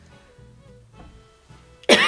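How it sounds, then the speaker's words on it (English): A single sharp, loud cough bursts out at the very end after a quiet stretch of room sound. "I'm about to cough."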